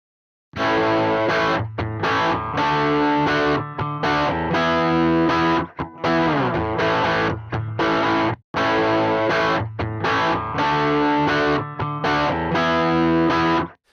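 Electric guitar runs through a Fender-style amp simulator in Reason on a breakup preset, giving loud, gritty sustained chords and riffs with brief pauses between phrases and no voices.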